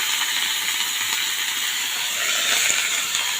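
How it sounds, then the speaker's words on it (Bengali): Cabbage frying in a pan, a steady dense hiss of sizzling that holds at an even level throughout, close by with no voices. "বাঁধাকপিটা ভাজতে হবে।"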